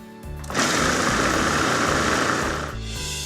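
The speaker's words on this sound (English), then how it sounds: "all you have to do is dump it in there, pulse, and you're done." Food processor pulsing riced cauliflower into a grits-like texture, a loud steady whirring burst of about two seconds that cuts off abruptly, with no talking.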